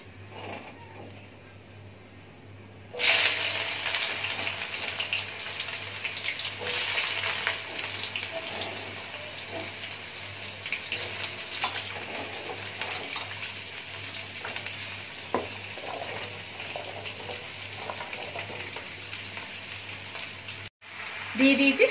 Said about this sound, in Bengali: এবার আমি সবজিগুলো ছেড়ে দেব।